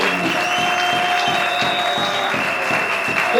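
A large audience at a political address applauds steadily, dense clapping that stays loud and even from start to finish, with a faint tone ringing over it.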